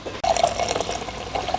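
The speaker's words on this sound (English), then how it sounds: "Oh, go on, pour me a glass as well." A drink is poured into a glass, a steady close liquid trickle and fill lasting under two seconds, starting after a brief click, with no talking.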